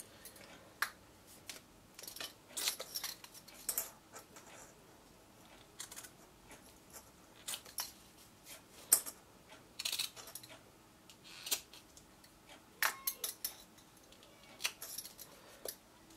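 Paper template being trimmed with scissors for a frosty house decoration, a series of short, sharp snips and rustles at irregular intervals, fairly quiet and close, with no talking.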